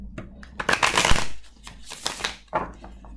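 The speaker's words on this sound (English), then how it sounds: "I'm not gonna go into a full shuffle because as you all already know, I shuffle my cards" Tarot cards being shuffled by hand in a series of quick riffling, papery bursts with brief pauses between them, fairly close and moderately loud.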